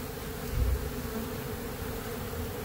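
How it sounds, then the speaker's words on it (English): Bees from a huge beehive at a motel buzz in a steady, continuous drone that stays close and level throughout, with a brief louder swell near the start. "we're at a motel. We have another beehive."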